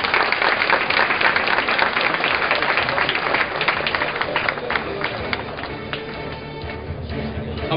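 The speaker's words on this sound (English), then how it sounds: "How about a big round of applause for our VIP and also our minister?" Crowd applause at the official opening ceremony of a rail line's stage 1 and 2, loud dense clapping filling the space, continuing steadily and thinning slightly toward the end.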